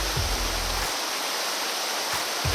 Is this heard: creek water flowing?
yes